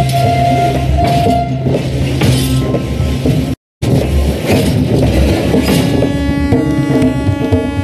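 Freight train wagons rolling in Turkey near the Bosphorus in Istanbul, a loud continuous rumble with steady metallic clatter and squealing, briefly cut off midway before the rolling noise resumes.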